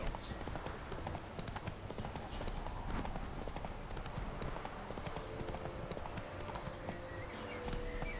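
Roach the horse galloping in The Witcher 3, hooves clip-clopping in a fast continuous rhythm over a dense game soundscape, with no talk.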